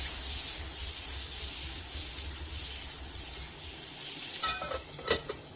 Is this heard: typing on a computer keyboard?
no